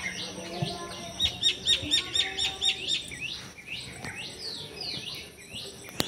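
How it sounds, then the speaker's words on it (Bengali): Myna birds call overhead outdoors with a burst of rapid, repeated chirps and chatter, followed by looser squawks, fairly close and loud over a faint background. "শালিক পাখিগুলো মাথার উপরে যা চ্যাঁ চ্যাঁ করছে না"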